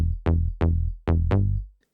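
The Lately Bass preset on a Yamaha TX81Z FM synthesizer hardware unit plays five punchy, plucky bass notes in a short loop. Each note has a sharp attack and a quick decay, and no one speaks over it.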